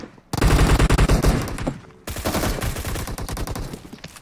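Rapid automatic gunfire from the PUBG Mobile video game, two loud close bursts of fast repeated shots separated by a short pause.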